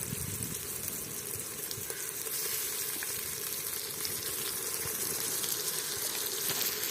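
Ginger garlic paste and spices sautéing in a pan for village-style vegetable biryani: a steady, even sizzle and hiss of frying, moderately quiet and continuous throughout with no voices.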